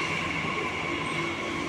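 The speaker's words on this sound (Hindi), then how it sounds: "वो तो पीछे आ चुकी है मेट्रो, हमारी नहीं है ये दूसरे प्लेटफॉर्म वालों की है" A metro train rumbles at a station platform with a steady loud roar and a high thin wheel squeal running throughout.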